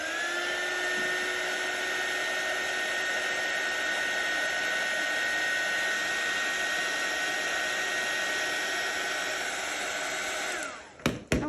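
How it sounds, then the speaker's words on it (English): A heat gun drying paint on a craft painting gives a steady, loud whirring blower hum with a high whine that holds for about ten seconds, then cuts off with a few clicks. "So I'm going to use my heat gun"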